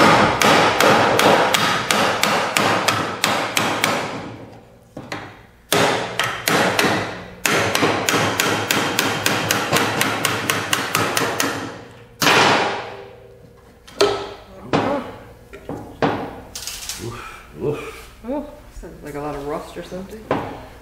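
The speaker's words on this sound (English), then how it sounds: "Anything else there before I starts pounding the living daylights out of it?" Repeated hammer blows pound on a seized fuel tank switch, loud, rapid and rhythmic in several bursts separated by short pauses, with the strikes growing sparser and more irregular toward the end.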